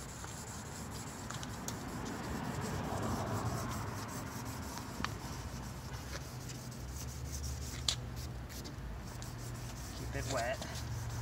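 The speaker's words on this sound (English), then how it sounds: "It's the finer grit sandpaper." Finer grit sandpaper rubbed over a car headlight lens during a Turtle Wax headlight restoration, giving a steady, soft rasping scrape that runs continuously at moderate level.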